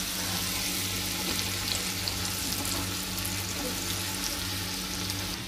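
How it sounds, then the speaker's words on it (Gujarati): Onion fries in hot oil in the tempering for dal tadka, giving a steady, close, dense sizzle that continues without break, with faint stirring underneath. "બીજા વઘારમાં આપણે ઓનિયન લીધી અને ઓનિયનને આપણે થવા દેવાની છે બ્રાઉન"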